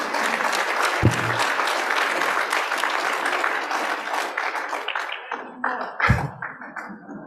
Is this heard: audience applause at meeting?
yes